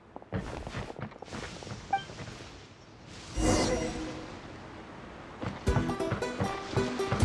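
Boat carving through waves in the video game Genshin Impact, with splashing water and whooshing surf in bursts, a louder surge midway and busy game sound effects toward the end.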